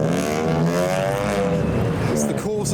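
A car fitted with a straight-through exhaust revs loudly and steadily nearby at a Japanese car meet, its engine note droning and rising slightly, with voices faintly underneath.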